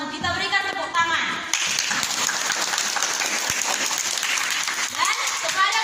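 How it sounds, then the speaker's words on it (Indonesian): A classroom of students breaks into dense, sustained applause for a small discussion group's presentation; a voice talks at the start before the clapping swells and fills the room. "Kita berikan tepuk tangan."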